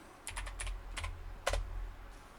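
A computer keyboard is typed on in a short burst of several quick, light keystrokes against a quiet room hum.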